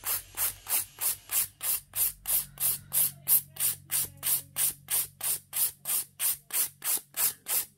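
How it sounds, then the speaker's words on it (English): A 100 grit file rasps back and forth over acrylic gel nails in a steady, even rhythm of about twenty-two strokes, each a loud, close, scratchy swipe, with no voices over it. "And then we're going to file this up."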